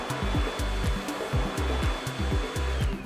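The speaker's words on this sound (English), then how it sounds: "Test dryer for proper operation by operating for more than 10 seconds." A ThinAir electric hand dryer with HEPA filter runs after a motor replacement, a loud steady motor whir and blowing air with a rhythmic pulsing hum underneath, close and uninterrupted, with no voices.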